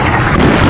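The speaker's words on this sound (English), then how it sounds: "Let me show you this video that shows the explosion in Kuwait." A missile strike explodes in Kuwait in news footage: one short, loud, rumbling boom with a dense roar of blast noise, heard alone.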